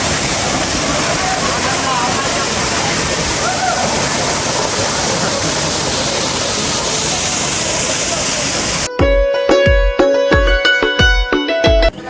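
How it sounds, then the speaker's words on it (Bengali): Madhabkunda waterfall in Sylhet roars as a steady, dense wash of falling water for most of the stretch, close and constant, before music abruptly takes over near the end. "ঝর্ণা।"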